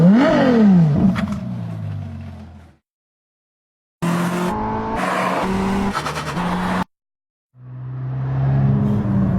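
Latest Honda Type R front-wheel drive car driving in three separate passages of close engine roar rising through the revs with gear changes, divided by moments of silence.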